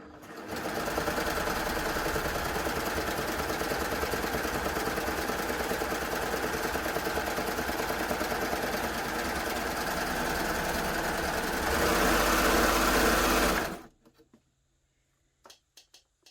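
A Baby Lock Gloria combination machine stitches through doubled thick fleece, a steady, close mechanical whir that runs for about fourteen seconds, speeds up briefly near the end, then stops abruptly, leaving near silence.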